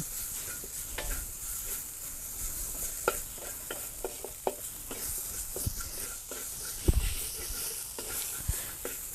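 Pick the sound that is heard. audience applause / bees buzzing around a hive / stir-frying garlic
stir-frying garlic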